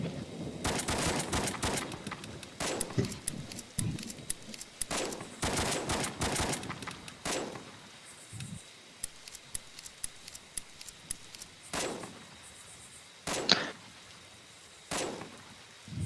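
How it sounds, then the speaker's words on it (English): Gunfire in the military shooter Blackhawk Rescue Mission 5 during a training drill. Several rifles fire at will in crackling bursts and scattered single shots, dense at first, then thinning into sporadic reports with pauses between. "Fire team fire at will."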